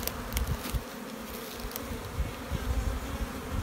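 Honeybees crawl over a capped brood frame lifted from a hive, a dense, steady buzzing hum filling the whole stretch close by, with a few sharper wingbeat flickers passing near.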